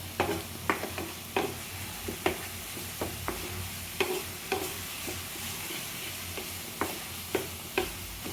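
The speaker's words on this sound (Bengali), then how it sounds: "হ্যাঁ, আমাদের এটাও ভাজা ভাজা মতন হয়ে গেছে বেশ কিছুটা।" Crab masala sizzles and fries steadily in a pan, with a constant hiss broken by repeated sharp scraping knocks of a stirring spoon against the pan, alone without talk.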